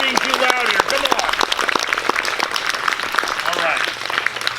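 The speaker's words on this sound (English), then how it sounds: "can we please give all of your teachers and all of our classified staff a huge round of applause" A middle school crowd applauds its teachers and classified staff at an awards assembly, with dense clapping and loud cheering and shouting voices throughout.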